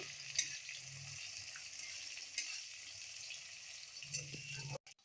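Chopped onions fry in hot oil in a village kitchen, a continuous close sizzle with occasional stirring scrapes and clinks.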